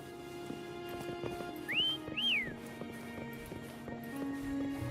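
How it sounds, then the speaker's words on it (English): Two rising, clear whistles sound in quick succession in the Wuthering Waves video game, calling a mount, set against a quiet game ambience of low music and faint hoofbeats. "Try whistling."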